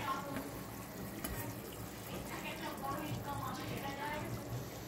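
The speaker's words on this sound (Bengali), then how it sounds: "জল দেবো, আরেকটুখানি জল দেবো, বেশি লাগবে না" Water poured into a pan of hilsa fish curry cooked with brinjal and panch phoron, a short gurgling trickle and splash up close, with light kitchen clatter.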